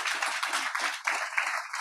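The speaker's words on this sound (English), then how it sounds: "please, big applause for our panelists today for sharing and for coming here" An audience at a demo day event applauds for a panel of speakers, with dense, steady clapping and a faint voice underneath.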